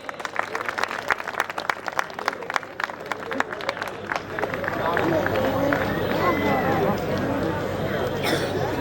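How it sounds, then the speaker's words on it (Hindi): Audience applause and cheering at a live women's bodybuilding event, dense clapping under crowd noise that swells and holds steady toward the end. "एक बार जोर से तालियां तो बजा दो इनके लिए"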